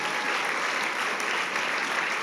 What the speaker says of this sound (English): How about a big round of applause for her?